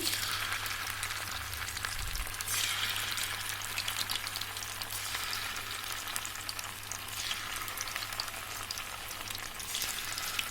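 Paneer 65 pieces frying in hot oil, a dense, even crackling sizzle that holds steady throughout at moderate volume.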